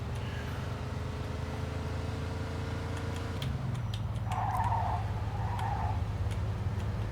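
Taxi car in the game Mafia 2 cruising with a steady low engine drone throughout, a shift in engine tone midway and a brief tire squeal toward the end; no talking.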